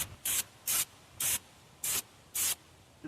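Five short, sharp bursts of aerosol brake cleaner spray onto a brake rotor surface on a 2020 Mitsubishi Mirage G4, evenly spaced, close up and crisp, with no talking.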